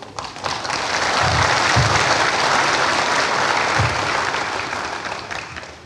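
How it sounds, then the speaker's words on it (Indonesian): Sustained, loud crowd applause fills a hall during President Prabowo's speech at the PKS national congress (Munas VI). It holds steady throughout with a few low thumps and tapers slightly at the end. "Ini PKS banyak juga tepuk tangannya ini."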